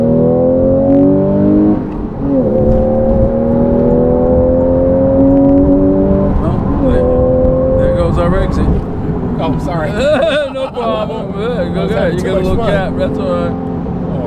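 Porsche 911 GTS with a manual gearbox revving up and dropping back through gear changes, a steady close engine drone with rising harmonic sweeps, heard under ongoing conversation inside the car.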